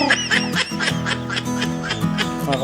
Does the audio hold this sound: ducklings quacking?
yes